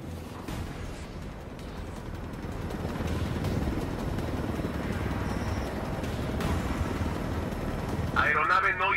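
Helicopter in the Ghost Recon Wildlands game, a steady dense rotor and engine rumble held throughout, with brief game effects near the end and people talking over it.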